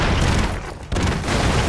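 Explosions in the action video game Broforce: dense, loud booming blasts fill the stretch, with a brief dip in the middle before the rumbling bursts resume.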